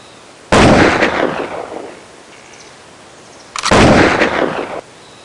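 Two loud, sharp rifle cracks about three seconds apart, each trailing into a long echoing rumble, ring out during a King of the Hill Texas hunting video game.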